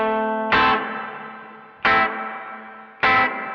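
Three sharp electric guitar chord strums, each followed by a sustained distorted ring and a long reverb tail. The guitar runs through a Caline CP80 Ragnarok reverb pedal with pre-delay off, and the reverb stays on constantly.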